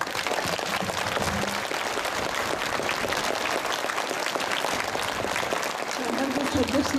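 An audience at an international pole vault competition ceremony in Żary applauds steadily and loudly, a continuous wash of clapping that carries on throughout, with a voice speaking under the clapping near the end.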